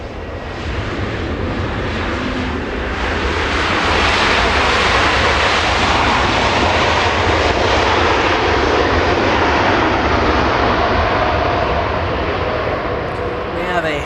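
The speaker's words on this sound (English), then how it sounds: "We have an arrival about to touch down." An American Airlines Airbus A321neo arriving from Las Vegas touches down at Los Angeles International Airport with a loud, sustained jet roar that swells and holds steady across the whole stretch.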